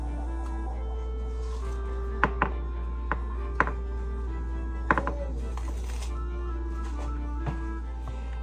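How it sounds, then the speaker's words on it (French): Knife peeling a half-ripe plantain, sharp irregular cuts and scrapes on the firm peel, close and fairly quiet over a steady low hum and background music. "je vais commencer par éplucher le plantain"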